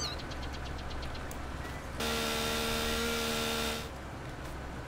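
A chainsaw in the Farming Simulator 19 video game runs with a steady buzzing drone for about two seconds over a continuous low engine hum, then cuts off.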